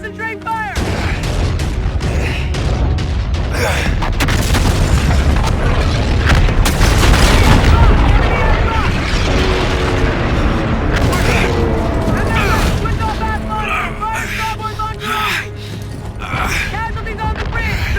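Ship guns firing and heavy explosions in a Call of Duty: Infinite Warfare battle, dense continuous booms and rumbling blasts with shouted voices over the din, loud and chaotic.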